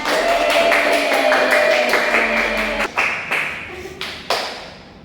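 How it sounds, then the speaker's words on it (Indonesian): A classroom of students claps, a dense burst of hand claps that runs for a few seconds and then breaks into a handful of scattered, fading claps and taps. "Kasih tepuk tangan."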